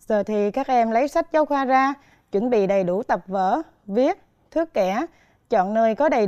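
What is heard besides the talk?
No everyday noises stand out.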